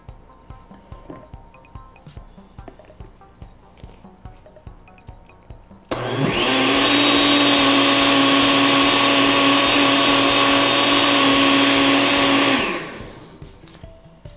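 A blender whirs loudly and steadily for about seven seconds, mixing liquid cornmeal cake batter, then winds down, after quieter kitchen handling sounds beforehand.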